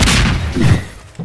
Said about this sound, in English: I have the line of bombs effect